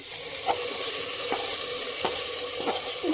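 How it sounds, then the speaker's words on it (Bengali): Spices temper in hot oil for beef trotter nihari, a bright continuous sizzle with a few sharp stirring clinks, close and steady over three seconds without speech. "এবার ফোড়নটা দিয়ে দেবো।"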